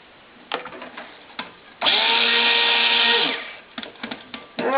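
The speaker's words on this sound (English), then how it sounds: "I can't imagine how they used to do this before stick blenders." A stick blender whirs steadily for about a second and a half while mixing soap batter, with clattering knocks of the blender against the container before and after the burst.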